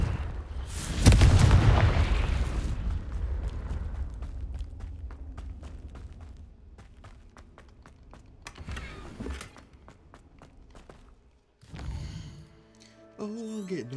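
A loud, booming Confringo spell explosion goes off in Hogwarts Legacy and rumbles away over several seconds. Smaller crackles and impacts follow, then a couple of later bursts of game effects.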